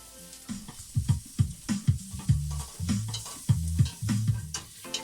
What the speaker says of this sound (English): we're going to put the mushrooms in with the onions, cook those down